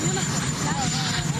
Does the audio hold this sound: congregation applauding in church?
no